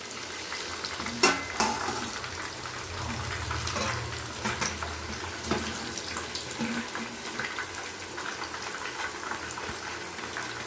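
Chicken kola urundai meatballs fry in hot oil with a continuous, close sizzle. Occasional sharper crackles and the clink of a stirring spoon break through. No one talks.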